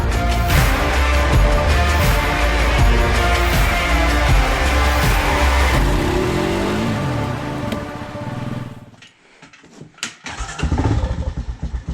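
A Honda Rancher 420 ATV engine running loud and close with a steady throbbing idle, then dropping off abruptly near the end, leaving brief quiet before a few sharp bursts of noise.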